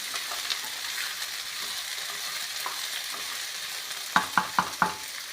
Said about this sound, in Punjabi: ਲਗਾਤਾਰ ਹਲਾਉਂਦੇ ਰਹਾਂਗੇ ਆਪਾਂ ਜੀ ਨੂੰ ਪਿਆਜ਼ ਦਾ ਹਲਕਾ ਜਿਹਾ ਲਾਈਟ ਕਲਰ ਜਿਹਾ ਆਪਾਂ ਚੇਂਜ ਕਰ ਲਾਂਗੇ